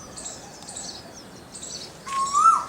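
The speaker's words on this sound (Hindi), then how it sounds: "दूर पर कोयल बोल रही है।" A distant Asian koel gives a single rising whistle near the end, in a garden in Raebareli. Before it there is only faint high bird chatter over soft background hiss, and no voices.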